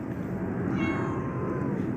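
A cat meows faintly in a room alongside a smaller black cat and a kitten, a single drawn-out call over a steady background hum.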